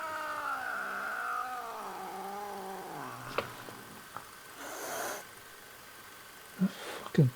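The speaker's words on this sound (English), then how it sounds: "The fucking cat still here?" Cat meowing indoors in a room, a long wavering drawn-out meow at the start followed by a few shorter, fainter calls and small thumps, fairly close.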